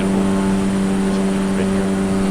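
A Cessna Grand Caravan single-engine turboprop on an Aurora Airways flight from St. Johns to Guadeloupe drones loudly and continuously from inside the cabin, with a steady engine and propeller hum and no other sounds.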